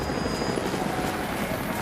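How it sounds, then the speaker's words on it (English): A helicopter in Rise of the Tomb Raider: Blood Ties drones loud and close, a steady whirring rotor that fills the whole moment without a break. "helicopters are headed your way"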